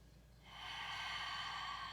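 A single long exhale through the nose during a deep stretching and meditation session, soft and breathy, rising after a short quiet start and holding steady to the end, close and gentle with no talking.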